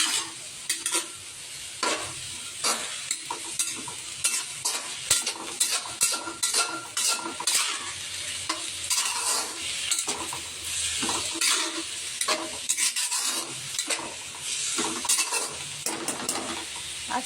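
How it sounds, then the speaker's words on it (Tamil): Cabbage fries in a pan while a utensil stirs and scrapes it in irregular bursts, soft sizzling underneath and occasional clinks of metal against the pan. "நல்லா கிண்டி விட்டுருவோம். நல்லா வதங்குற வரைக்கும்"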